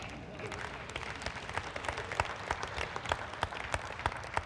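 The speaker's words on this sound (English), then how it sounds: "I didn't expect anybody to put their hand and clap" A church congregation claps steadily through a sermon, a dense wash of many hands with sharper individual claps standing out, fairly loud and continuous throughout with no talk over it.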